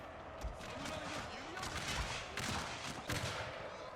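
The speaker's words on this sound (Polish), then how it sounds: "Jeszcze salwa strzał, dobrze." Musket volley gunfire in a strategy video game mod, with repeated crackling shots and sharp bursts over a dense battle din, steady and moderately loud throughout.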